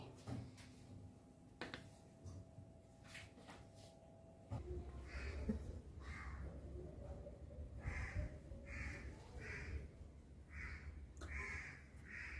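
Crows caw outdoors in Goa near pork set out to sun-dry, giving a run of repeated harsh calls, faint and somewhat distant over a low background rumble.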